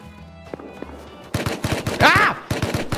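AK rifle gunfire in the video game Rust, fired by a player camping on a roof: several rapid, loud cracking bursts with dense overlapping shots, plus a whining tonal sweep partway through.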